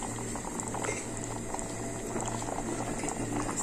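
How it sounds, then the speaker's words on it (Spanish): A chicken stew with tomato and bell pepper comes to a boil in a pot, making a dense, continuous bubbling and popping that stays close and loud for the whole stretch. "Acá, como ven, ya está empezando a hervir."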